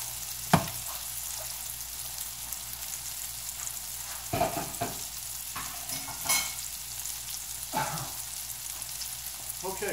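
Cauliflower patties sizzle steadily in a pan, a continuous close frying hiss broken by a few sharp pops and clatters of utensils, with no talk.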